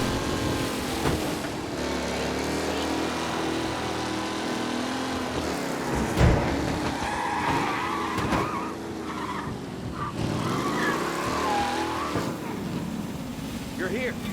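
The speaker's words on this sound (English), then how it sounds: "Be alert for a race car out on the roads tonight." A race car skids and squeals across the roads in the Mafia remake game, its engine droning steadily with a sharp tire screech partway through, accompanied by game music and voices.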